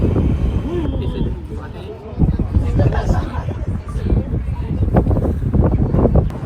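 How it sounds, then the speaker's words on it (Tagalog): Heavy wind buffets the microphone at the Eiffel Tower with a constant low roar, while a person talks continuously underneath the rumbling gusts. "Sobrang hangin na kaya hindi ko na rin maintindihan kung anong sinasabi ko dito."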